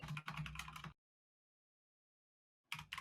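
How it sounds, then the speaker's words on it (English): Brief bursts of clicky computer keyboard typing, close and fairly loud, stopping into silence before a short burst resumes at the end. "I hear you typing consistently"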